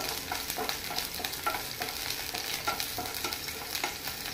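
Chopped onion fries with ginger and garlic in a pan, a soft, close sizzle punctuated by rhythmic scraping stirs that repeat roughly every half second.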